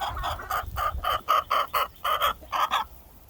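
Backyard chickens in a coop cluck in a quick, uneven run of a dozen or so short, nasal calls, close and clear over faint ambient rustle, then fall quiet.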